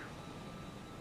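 Steady broadband APU hum heard from the rear cabin of an Airbus A319 in X-Plane 11, a constant airy drone with a faint whine, unbroken and without talk.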